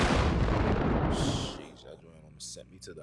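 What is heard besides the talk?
gunshot sound effect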